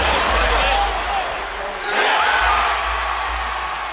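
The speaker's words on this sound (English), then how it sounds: "Just listen to this crowd for a 500 NBA team." Fans in an arena roar and whoop at an NBA Sacramento Kings basketball game. The dense crowd noise swells, dips briefly and then rises again, and scattered shouts and whistles stand out.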